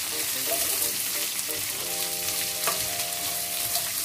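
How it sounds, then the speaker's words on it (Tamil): Onions being stirred into hot oil in a pan while cooking a chicken parts curry, a loud continuous frying sizzle with steady stirring scrapes, close and without talk. "வெங்காயத்தையும் வந்து சேர்த்து இப்படியே கலந்து விடுவோம்."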